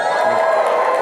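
Large audience cheering and whooping in a hall, a dense, loud roar of voices over one brief second.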